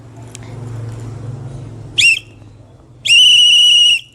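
Scout whistle signalling the Morse code letter A: one short high blast followed by one long sustained blast, loud and close, after a stretch of low background murmur.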